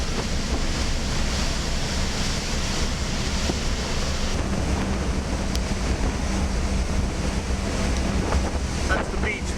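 Rough sea surf pounds a beach in Gibraltar, a steady, dense roar of breaking waves mixed with heavy wind buffeting the microphone, loud and continuous throughout.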